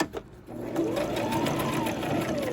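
A home sewing machine stitching fabric for a jogger set, a steady whirring motor hum with a rapid needle rhythm that starts after a brief quiet handling moment and runs on close by.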